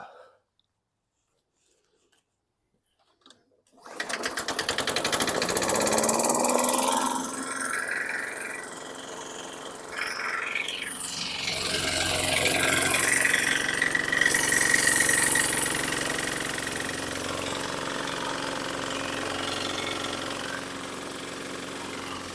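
Several junk lawn mower engines, bought cheap and poor in condition, crank and catch after about four seconds of near silence, then run loud and steady with rough, varying engine drone and surging throttle up close.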